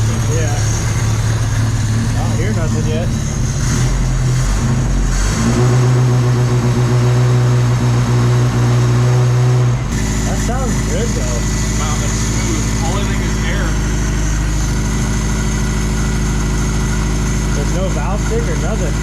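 A Toyota 22R engine idles steadily with a low, even rumble while cold, and people talk over it. The tone shifts partway through as the revs change.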